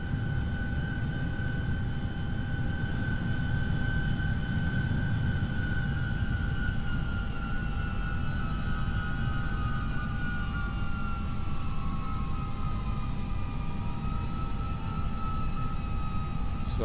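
Airbus A340-300 engines in X-Plane 12 drone steadily on the runway at heavy takeoff weight, a continuous loud roar with sustained whining tones slowly shifting in pitch, with no talk over it.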